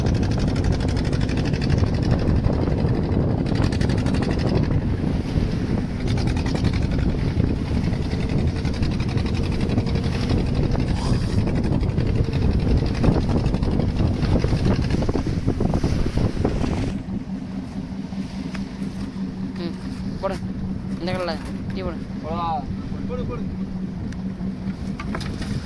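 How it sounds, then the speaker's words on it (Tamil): A hook-and-line fishing boat's engine passes nearby at sea, a steady low rumble buried under heavy wind buffeting and water noise, easing slightly toward the end. "அந்த படகும் பக்கத்துலேயே தான் கடந்துச்சு பாருங்க."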